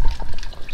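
Water splashes out of a camper's main pump line into a catch jug, a short close-up burst of pouring and dribbling liquid.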